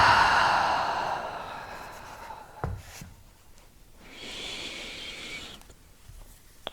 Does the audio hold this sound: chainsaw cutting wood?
no